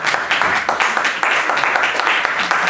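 A church congregation applauding the Lord with steady, dense clapping from many hands throughout, loud and close.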